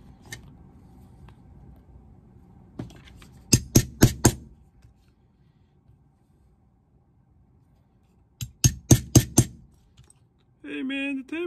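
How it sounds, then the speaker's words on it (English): Hammer striking a table during shoe restoration, two quick bursts of four or five sharp close knocks each, separated by quiet room tone, followed near the end by a brief electronic tone. "Camera shakes when you hammer on the table."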